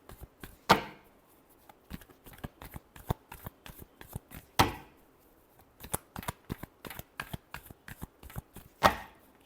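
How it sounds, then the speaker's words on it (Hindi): Tarot cards being shuffled by hand, a close series of crisp riffling flutters and soft taps at an irregular rhythm, with a few sharper snaps standing out, no voices. "Last shuffle."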